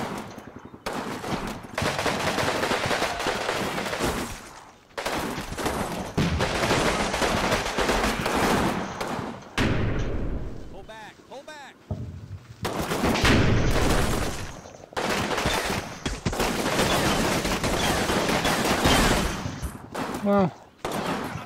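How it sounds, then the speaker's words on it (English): Sustained machine-gun and rifle fire in a Combat Mission battle of a WWII-era US infantry attack on La Valence, coming in long dense bursts with short pauses and a voice speaking during a quieter gap. "So much for suppressive fire from those guys."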